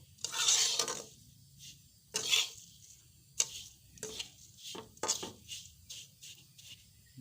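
Coconut dry-roasts in a pan on a gas stove, with a spatula stirring it in irregular scraping bursts separated by short quiet gaps.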